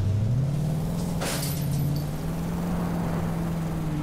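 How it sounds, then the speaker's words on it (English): A car engine in Cyberpunk 2077 drones as a low, steady rumble that rises slightly in pitch early on and then holds a constant hum, close and alone with a brief brighter burst near the start. "I like the sound of that car."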